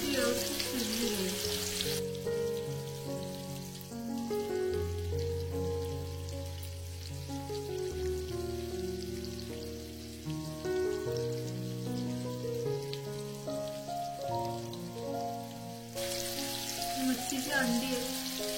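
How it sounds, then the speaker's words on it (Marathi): Tuna fish frying in hot oil in a pan over a lowered gas flame, giving a steady, close sizzle and crackle that runs throughout with no talk. "आधी तेल तापवलेलं असेल की आपण गॅस स्लो करून घ्यायचा आणि मग मच्छी फ्राय करायची त्याच्यावरती"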